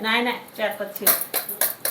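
A voice talks, then several quick, sharp knife chops through an onion on a board follow in an uneven rhythm, close and distinct.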